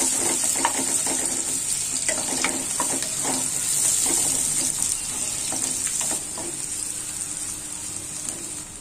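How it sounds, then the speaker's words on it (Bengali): Chopped onions frying in a small amount of hot oil, a steady close sizzle with soft clinks and stirring scrapes throughout, no voices over it. "পেঁয়াজটি একটু ভাজা হবে।"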